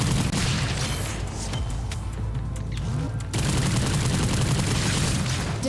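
Explosion in the action game Warframe, a dense, roaring blast with crackling debris that briefly thins and then surges loud again, filling the whole stretch with no voice over it.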